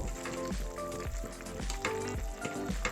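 Curry of pool barb fish and fenugreek sizzles in a pan while a spoon stirs it, with soft rhythmic scraping strokes repeating under the steady bubbling.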